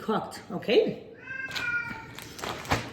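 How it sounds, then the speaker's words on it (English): A house cat meows several times in the background, a few short drawn-out cries rising and falling, while a person talks nearby in a kitchen. "You can hear my cat in the background."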